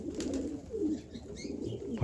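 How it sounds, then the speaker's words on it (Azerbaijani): Pakistani pigeons coo softly at close range, with low warbling calls repeating under faint background noise. "Pakistan quşları."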